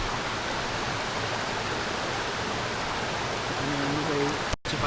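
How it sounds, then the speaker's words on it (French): A small waterfall on a hike in Mafate, Réunion Island, gives a steady, broad rushing hiss of falling water that stays constant throughout, with a brief faint tonal sound near the end. "Petite cascade et tout."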